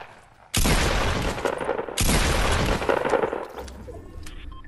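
Two loud, close bursts of Fortnite gunfire crack in quick succession, each a dense volley, then tail off into quieter rumbling noise.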